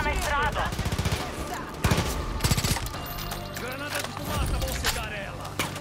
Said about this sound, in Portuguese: vou atirar de sniper